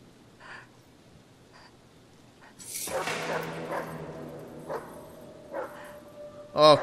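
Dog barking in the video game Hidden Agenda at a break-in scene, a few sharp barks standing out from quiet ambience and a sudden loud sting, with the last bark close and loud.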